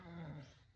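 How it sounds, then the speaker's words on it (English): A dog lets out a short, close vocalization, a brief growl-like whine lasting under a second, heard alone. "This is a dog."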